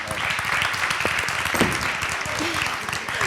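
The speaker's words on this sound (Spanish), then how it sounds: "Efectivamente, un aplauso para ellas." Applause for an ice club's women's team during an interview, a dense burst of clapping mixed with crowd noise and talking voices throughout, loud and close.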